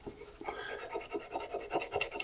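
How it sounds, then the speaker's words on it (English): Rhythmic rasping of a small round-edged sanding stick rubbed back and forth on a meerschaum-lined pipe bowl, steady close strokes about every fifth of a second. "a little sanding stick with rounded edges that I could use to delicately start to sand back the surface"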